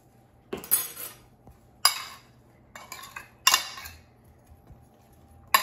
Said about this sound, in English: I'm adding a little butter and some salt and pepper. And I'm going to mix it so butter actually melts.